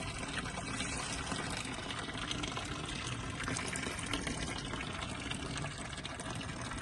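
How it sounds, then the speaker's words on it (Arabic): Water is poured onto a potted plant, a steady broadband gushing and splashing that stays loud and even throughout with no talking. "هي دابا نخوي عليها الماء وتبدا تزيان ان شاء الله"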